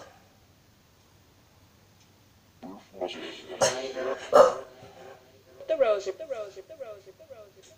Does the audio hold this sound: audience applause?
no